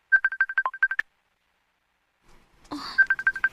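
Phone ringing in a radio drama: a rapid electronic ringtone burst, a pause of near silence, a brief rustle, then the chirping ring pattern resumes for an incoming call.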